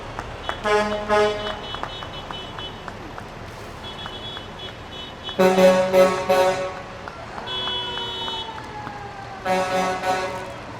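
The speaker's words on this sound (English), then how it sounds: "followed by the Black Stallion, our new 50-ton tow truck" Tow trucks in a small-town founders day parade, including a new 50-ton wrecker, sound loud horns in several bursts, some long, some in quick repeated toots, over a low engine rumble and background crowd noise.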